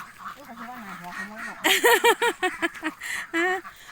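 Several ducks quack in a quick, uneven series of loud nasal calls, close by, following a stretch of quieter voices and outdoor background.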